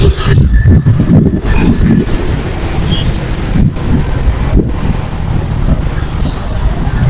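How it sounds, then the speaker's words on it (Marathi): Road traffic rumbles past near Hinjewadi Chowk in heavy rain, a steady broadband roar of passing cars mixed with strong wind buffeting the microphone throughout. "इथून येत आहेत गाड्या"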